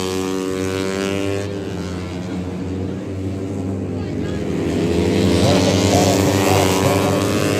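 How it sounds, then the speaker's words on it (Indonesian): Racing motorcycles at a regional open road race on an airport circuit in Tana Toraja give a sustained, droning engine whine that swells toward the end while a voice narrates over it. "digelar kejuaraan daerah balap motor DMS Automotive Club Dada Toraja."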